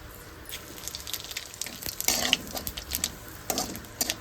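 Cumin, ginger, dried chilli and bay leaf dropped into hot oil for tempering while cooking fish curry: soft steady sizzling with clustered crackling spatters and stirring, close and fairly quiet.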